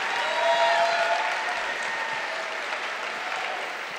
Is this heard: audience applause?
yes